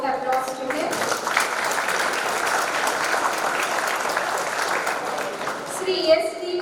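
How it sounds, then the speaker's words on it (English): Independence Day celebration audience breaks into continuous applause, a dense even wash of clapping held for several seconds, with faint voices near the end. "So a big round of applause to him."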